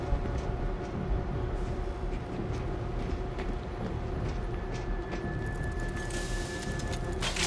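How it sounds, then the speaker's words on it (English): A train starts up and runs in the zombie shooter World War Z, a steady rumbling clatter of wheels and machinery with a rising mechanical whine near the end. "Somebody start up the train."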